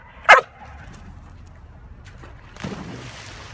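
German Shorthaired Pointer giving a single sharp bark near the start, followed by a quiet pause and then some low outdoor rustling and movement.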